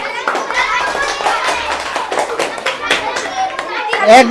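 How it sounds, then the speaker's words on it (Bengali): Classroom of primary-school children clapping together for a group, a dense patter of many small hands with chatter and kid voices mixed in, fairly close and steady throughout. "এই দলের জন্য আমরা একটা হাততালি দেই"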